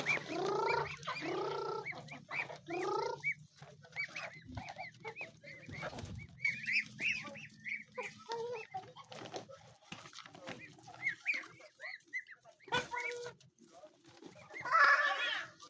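Chickens cluck and squawk repeatedly at fairly close range, with scattered bird calls and occasional rustling throughout.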